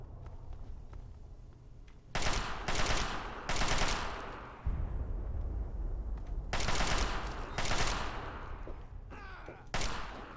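Rapid bursts of automatic gunfire from the Fallout 3 Operation Anchorage video game: loud, dense volleys at irregular intervals with short gaps, and a low rumble beneath.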